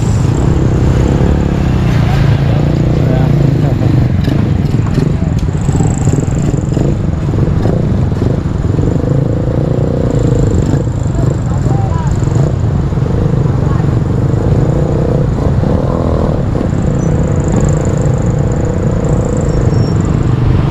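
Cars and motorcycles cross a new floating bridge in Laurel, Batangas, making a loud, continuous rumble of engines and clattering tyres as vehicles pass close by, with a voice talking over the traffic.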